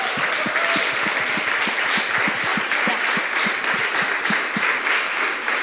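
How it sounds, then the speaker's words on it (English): Conference audience at re:publica 2018 applauding panelists, a full, continuous round of clapping with some individual claps standing out up close. "let's give a warm applause to our 3 panelists"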